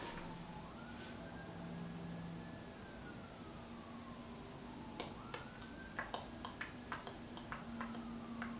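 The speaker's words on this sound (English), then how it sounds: "Got some sirens going on in the background." A wailing siren rises and falls in the distance, sustained across the whole stretch, somewhere near a quiet mountain setting, with a few faint ticking clicks toward the end.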